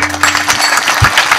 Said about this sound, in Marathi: वाजवाना टाळी